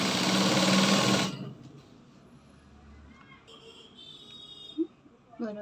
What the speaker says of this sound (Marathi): आणि मग शिलाई मारायची.